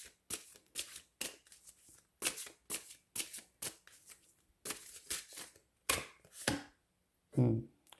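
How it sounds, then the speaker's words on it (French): Tarot cards are shuffled by hand in quick, crisp riffling bursts, repeated many times in an irregular rhythm, close and fairly quiet, with a brief voice near the end. "Je vais brasser."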